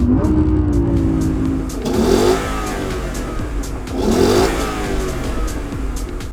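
An Audi R8 V10 Plus engine revs hard and loud, rising in two surging pulls with a rough, throaty roar between them, close and alone with no talk.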